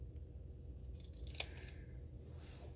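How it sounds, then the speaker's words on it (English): A single quick snip of scissors through the fabric corner of a sewn burp rag, one short sharp cut over a steady low room hum, with nothing else around it. "we're going to clip the corners"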